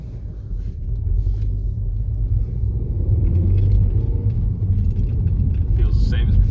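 A car with a 1.2 TSI engine driving in eco mode, heard from inside as a steady low rumble that builds slightly, with people talking over the engine noise.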